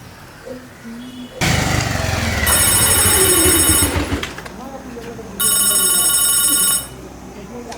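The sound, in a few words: telephone ringing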